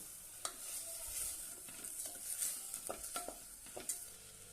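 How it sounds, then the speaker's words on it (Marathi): Rice sautéed in a pan with sprouted moth beans for a spiced pulao, a soft continuous sizzle under repeated scraping stirs of a spatula, close and quiet with no voices. "आता यामध्ये आपण तांदूळ घालूया छानपैकी परतून घेऊया"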